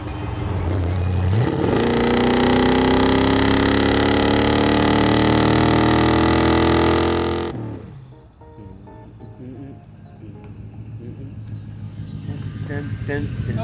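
A loud 1951 GMC panel van roars past up close, its engine rising in pitch for several seconds before cutting away abruptly, leaving quieter ambient noise and faint birdsong.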